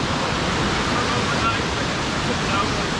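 Battle Creek Falls running at high snowmelt flow, a loud, steady roar of rushing, crashing water that fills the scene without a break.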